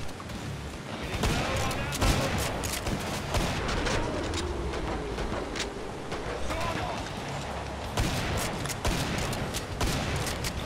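Rapid bursts of gunfire from Killing Floor 2, played on the custom map RockyValley, crackle nonstop under a dense wash of game noise, with loud volleys stacking over one another.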